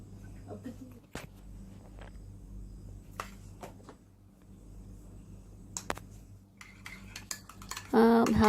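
A spoon stirs a sauce of mayonnaise, ketchup and chili sauce in a bowl, giving sporadic soft clinks and scrapes against a low steady background hum, with a louder clatter near the end.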